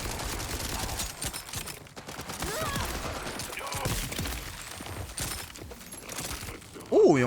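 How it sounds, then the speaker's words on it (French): Rapid weapon fire from a fast-shooting gun in the video game Borderlands 4, a dense, continuous stream of shots and impacts under game effects, with a louder burst at the end. "Elle tire vite, elle fait des dégâts."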